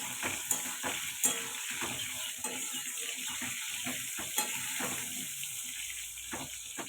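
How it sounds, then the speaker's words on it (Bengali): Potatoes fry slowly in a pan, giving a soft, uneven sizzle with faint crackles and a few clicks of stirring, fairly quiet and without speech. "এইভাবে আলুটা ভেজে নেবো আস্তে আস্তে"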